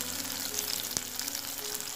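Onion frying in hot oil gives a soft, steady sizzle with a single sharp tap, faint and brief.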